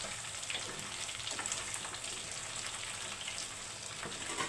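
Chicken pakodi frying in hot oil, a steady bright sizzle with scattered crackles and pops, continuous and close, with no talking.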